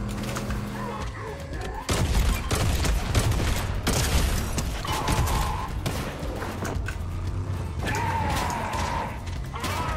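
Rapid bursts of gunfire in a multiplayer shooter video game, loud and close, with repeated volleys and crashing hits over game ambience.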